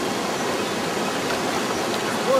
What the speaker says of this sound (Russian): Ой, водопадик красивый.